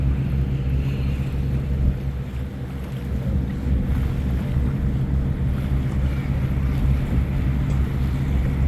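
Riverboat on a Toronto harbour cruise, a loud, steady low engine rumble mixed with wind buffeting and water wash, continuous throughout, with no talk.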